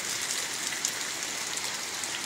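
Steady rain falls in a rural Vietnamese setting, a dense, even hiss of drops that stays constant and fairly close throughout, with no voices.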